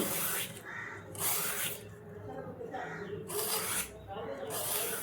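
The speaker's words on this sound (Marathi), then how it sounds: "असं मस्त किसून घ्यायचं छान।" Ridge gourd is grated by hand for a vegetable dish, giving about five rhythmic, hissing rasp strokes, each a short burst separated by brief pauses, close and fairly loud.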